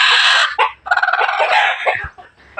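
A rooster crows loudly and close by, and chickens cluck in short bursts around it.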